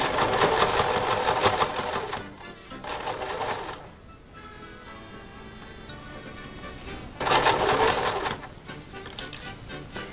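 A sewing machine stitches lining on a dirndl dress in two loud bursts, a rapid mechanical whir that stops, leaving a quiet pause before the motor runs again.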